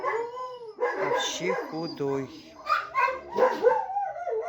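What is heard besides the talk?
dog howling and barking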